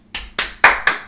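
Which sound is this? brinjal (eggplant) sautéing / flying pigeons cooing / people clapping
people clapping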